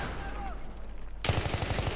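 Battlefield 3 gunfire erupts partway through, a rapid automatic burst of loud close shots in quick regular rhythm following a quieter stretch of in-game ambience.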